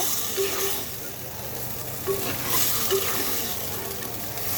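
Goat meat fries in spiced masala in a clay pot, a thick, close sizzle with soft stirring scrapes and occasional louder bursts as the meat is mixed.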